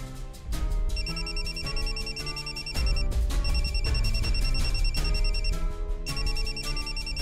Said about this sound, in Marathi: मॅडमचा फोन आहे